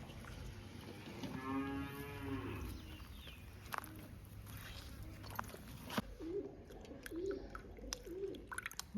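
A cow moos on a farm, two long lowing calls in the middle distance followed by softer short grunts, over steady background noise with faint bird coos.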